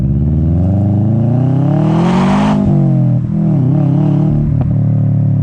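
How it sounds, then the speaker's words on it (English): A car fitted with an Apexi catback exhaust revs hard alone, engine pitch climbing steadily to a sharp peak, dropping, then surging again in a few shorter blips, loud and close. "I did already buy it with an Apexi catback exhaust"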